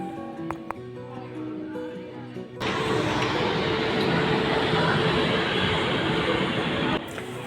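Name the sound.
train running into Patna Junction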